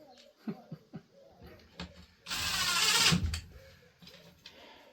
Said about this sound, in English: I know I'm using an impact driver, but it's got that very slow speed setting on it